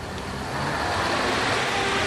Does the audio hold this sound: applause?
no